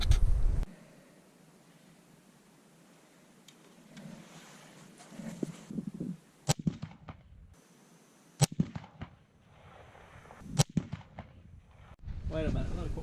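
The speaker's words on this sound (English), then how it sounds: "Now I'm gonna shoot a fouling shot in the dirt" A single-shot rifle fires a fouling shot into dirt outdoors, heard as a few sharp, isolated cracks separated by quiet handling and rustling noise.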